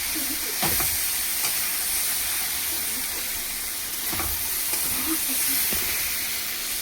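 Fish sizzling in a hot pan as water is added, a loud steady hiss and frying crackle with brief bursts of spattering, close up, with no talking.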